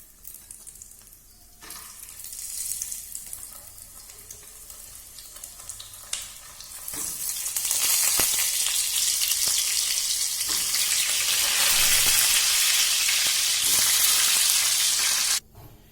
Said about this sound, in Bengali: এবার আমি ওই তেলেই আগের থেকে সেদ্ধ করে রাখা আলু আমি ওর মধ্যে ছেড়ে দিচ্ছি